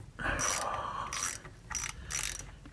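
A ratchet wrench loosening a tight bolt on a Volkswagen Beetle engine, heard up close as four short bursts of rapid metallic clicking separated by brief pauses.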